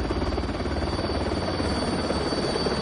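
A helicopter sets down on a road close by, its rotor thumping in a loud, steady, dense drone that fills the whole stretch without a break.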